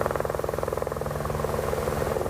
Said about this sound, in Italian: Ed ecco l'elicottero con le squadre dell'antincendio boschivo che scende a caricare la sua cesta di acqua